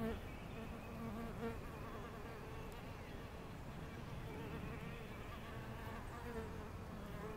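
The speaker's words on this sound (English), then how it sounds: "Mason bees." Dense, steady buzzing of many Japanese hornfaced mason bees swarming close by, a continuous droning hum with no pauses.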